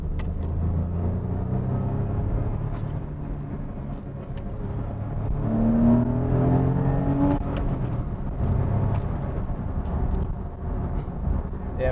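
A 2001 Porsche 911 (996) Carrera 4 with a manual gearbox accelerates on the road, its engine note rising and falling through the gears as a steady interior drone, with tyre and road noise underneath.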